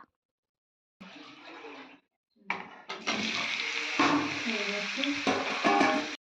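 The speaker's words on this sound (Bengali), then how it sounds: "আমি এবার ঢেলে দিলাম ডালটা" Boiled biulir (urad) dal poured into a frying, well-cooked spice mix in a pan, a watery rushing splash starting softly then swelling into a loud, steady sizzling gush that continues for several seconds.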